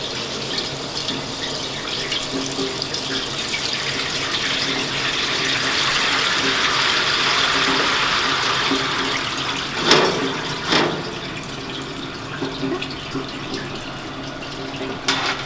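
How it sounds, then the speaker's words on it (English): Hot water poured slowly from a kitchen pot into a colander, a steady rushing splash that swells in the middle and then tapers, with a couple of sharper knocks near the end. "When emptying this into a colander, you want to slowly pour so you're not going to burn yourself."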